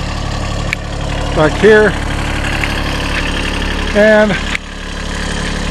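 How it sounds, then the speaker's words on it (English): A tractor engine idles steadily on a homestead, with a low continuous hum running under a few brief spoken words and two short higher-pitched whining tones. "after trial and error, we got the tractor going again"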